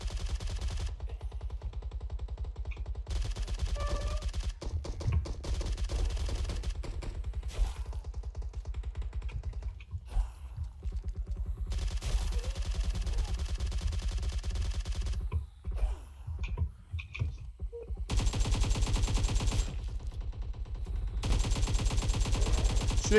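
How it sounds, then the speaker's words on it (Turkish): Automatic gunfire in the mobile game PUBG Mobile, in a zombie mode, rattles in long continuous bursts broken by brief pauses, loud and close, with no talking over it. "Sürekli kaçarak atış ettim abi."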